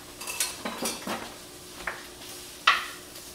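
Jalapeno is mixed into a pot of Thai yellow curry with shrimp. A utensil scrapes and knocks against the pot in a few scattered clinks, one sharper metallic tap near the end, all close and fairly quiet.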